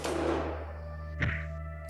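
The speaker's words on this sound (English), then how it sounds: "Thud." A single dull thud lands partway through a quiet, droning scene in the RPG Maker horror game Devil of the Mirror, sounding alone over a low ambient hum.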